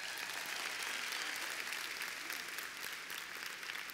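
Audience applause at a corporate keynote address fills the space with steady, dense clapping, fairly distant and even throughout.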